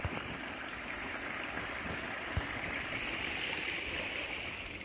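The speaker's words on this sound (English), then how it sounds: "Here is another little stream that meets up into the creek, and the creek, it just keeps going and going." Small stream trickling and meeting a creek in the woods, a soft, steady wash of flowing water heard alone, faint and continuous.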